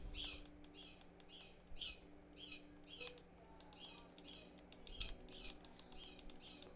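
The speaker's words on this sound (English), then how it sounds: "I don't know if the bird's gonna be audible." A pet bird squawks from downstairs in a house, giving repeated faint harsh calls in a fairly regular rhythm over a low room hum, distant and quiet.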